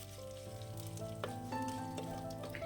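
Fenugreek, dried red chillies and curry leaves frying in hot oil for a tomato moru curry, a faint steady sizzle with small crackles and pops, no talking.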